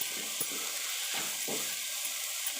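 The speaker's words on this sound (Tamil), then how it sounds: "இதிலே ஒரு 3-4 நிமிஷம் நல்லா வதக்கிப்போம் எண்ணெயிலே புடலங்காயை" Snake gourd sautéing in oil in a pan, giving a steady sizzle with soft stirring scrapes and small bursts throughout, heard close and alone.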